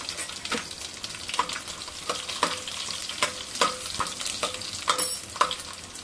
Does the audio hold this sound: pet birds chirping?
no